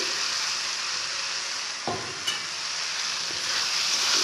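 Potatoes stir-fried in a pan give a steady, close sizzle of frying, with occasional scrapes and knocks from the spatula against the pan.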